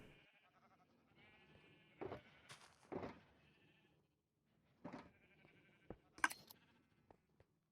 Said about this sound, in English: All of the sheep are getting sheared.